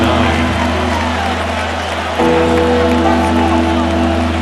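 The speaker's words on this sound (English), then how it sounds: "This crowd into it now as we get to third down." A steady stadium crowd roar from the Madden NFL 26 video game, Chicago Bears against Tampa Bay Buccaneers, holds an even level throughout and swells slightly partway through as third down approaches.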